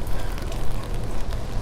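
Rain falling on a street in Zemun along the Danube, a steady dense hiss and patter close by, continuous and fairly loud, with no voices.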